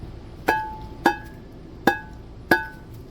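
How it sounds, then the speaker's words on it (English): Four sharp, ringing metallic knocks spaced roughly half a second apart as a rubber mallet strikes a brake part to free it on a Winnebago RV, each hit close and distinct with a short ring. "Take your rubber mallet,"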